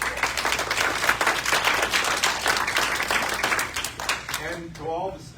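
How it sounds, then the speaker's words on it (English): Audience at an evening program talk gives a lively round of applause with crisp individual claps, fading toward the end as a voice begins speaking. "Please let's give them a round of applause."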